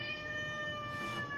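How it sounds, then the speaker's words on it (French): A house cat meows close by in a kitchen, one drawn-out plaintive call over steady appliance hum and background noise. "Mon pauvre bébé chat."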